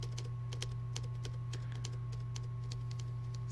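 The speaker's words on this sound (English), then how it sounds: "He's still typing away." Keyboard typing in the video game Palette: a steady run of light, quick key taps over a constant low electrical hum, with no talking.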